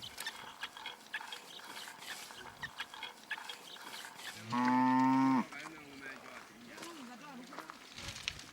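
Cattle herded by the Himba in the Kaokoland desert region: a single loud, drawn-out moo rises clearly over quiet ambient background, followed by fainter lowing.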